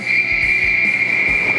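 One sustained, loud, shrill whistle blast holds a steady pitch for over a second.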